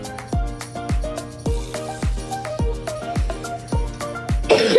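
A person coughs repeatedly in a steady series of about nine sharp, close hacking coughs, evenly spaced, ending with a rougher, breathier burst.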